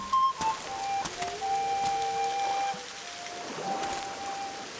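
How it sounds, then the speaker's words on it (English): Rain hisses softly in The Witcher 2: Assassins of Kings, joined by thin sustained whistling tones and a few sharp clicks, with no one speaking. "Okay, it's raining."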